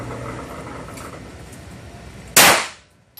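A single loud, sharp pistol shot at a gun range rings out after a few seconds of low, steady background noise, then trails off in a quick echo.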